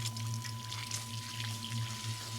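Water sprays steadily from the small holes of a water-powered spinning invention, a constant rushing hiss over a low mechanical hum.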